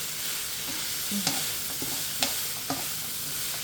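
Chicken and vegetables stir-frying in a pan, a steady sizzle with a few sharp clinks of a utensil against the pan, heard alone at moderate loudness.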